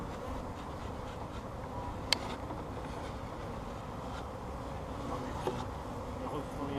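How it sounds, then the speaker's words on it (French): Honeybees in an open hive in spring, a dense, steady low buzzing hum that fills the whole stretch, close and continuous, with a couple of faint clicks but no talking. "C'est la fête du son. c'est la ruche en pleine forme."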